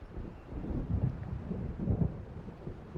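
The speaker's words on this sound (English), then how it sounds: "It seems there's a storm coming." Low rumbling thunder of an approaching storm in the video game Alan Wake Remastered, two soft distant rolls over a faint rain-like hiss.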